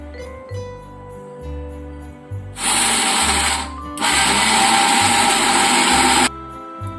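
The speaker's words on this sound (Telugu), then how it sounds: "ఇలా మొత్తం ముక్కలన్నీ కూడా ఇలా మిక్సీ వేసుకుని ఒక బౌల్లో తీసుకుందాము" A mixer grinder blending coconut pieces whirs loudly in two bursts, a short one then a longer one, with lower motor hum and clatter in the pauses between.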